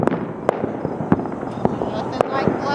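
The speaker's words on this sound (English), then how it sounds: "Honestly, there's fireworks everywhere." Fourth of July fireworks pop and crack around a campground, sharp reports arriving roughly every half second at varying distances over a low steady background hum.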